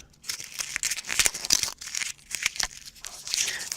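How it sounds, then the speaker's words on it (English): A sticky note crumpled right against a microphone gives close, loud crinkling and crackling in irregular bursts with short pauses, with no voices. "This is me crumpling a sticky note into the microphone."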